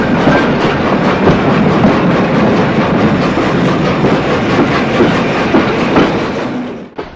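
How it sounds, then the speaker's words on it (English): A goods train of mixed trucks hauled by a Great Western Railway tank engine lumbers along a branch line, a steady loud rumble with rhythmic clickety-clack of wheels throughout, cutting off abruptly at the end. "Another goods train lumbers down the branch line with the Great Western Railway tank engine in charge, hauling trucks carrying a variety of goods"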